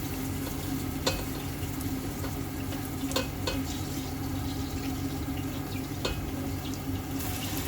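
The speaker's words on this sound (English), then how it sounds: "So our tomato paste is well fried right now." Tomato paste frying in a pot, a steady close sizzle with occasional stirring scrapes and clinks throughout, no talking.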